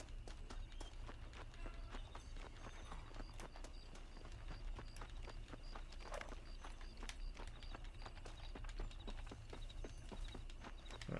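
Horse hooves clip-clop at a steady trotting rhythm in the Western video game Red Dead Redemption, close and continuous over a low ambient bed, with no talking.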